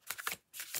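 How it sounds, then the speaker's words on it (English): Voices of the Souls oracle cards are shuffled by hand in a quick close riffle, two soft papery bursts split by a short gap, with no one speaking. "Voices of the Souls Oracle cards here. So I'm just going to give those a shuffle."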